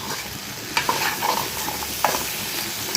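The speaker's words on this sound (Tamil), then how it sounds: "இது எல்லாத்தையுமே சேர்த்து நல்லா வதக்கி விட்டுக்கலாம்" Ingredients sautéing with rock salt in a pan for kalani puli saaru, a continuous sizzle with a few stirring scrapes and clicks of a spoon against the pan.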